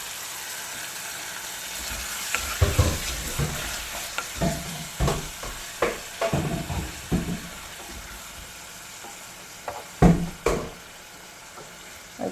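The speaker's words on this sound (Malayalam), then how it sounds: "നല്ല ഹൈ ഫ്ലെയിമിലിട്ട് പെട്ടെന്ന് വഴറ്റിയെടുത്താൽ മതി" Rasam ingredients sauté quickly over a high flame, a continuous hiss of frying with repeated scraping and clattering strokes of a spoon stirring in the pan, close and fairly loud.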